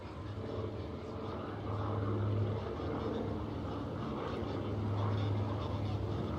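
Consolidated PB4Y-2 Privateer four-engine airplane passing overhead at an airshow, a steady droning roar heard at a distance that swells and holds, with crowd noise and faint speech beneath.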